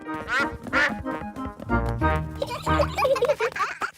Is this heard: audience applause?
no